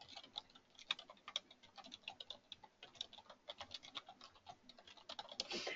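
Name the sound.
typing on a computer keyboard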